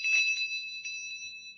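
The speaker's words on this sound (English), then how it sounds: "The better it tastes, the louder it'll ring the bell." A bell on a flavor meter machine in an old-time radio sci-fi drama rings once with a bright, sustained metallic tone that lingers steadily and fades slowly, heard alone without talk.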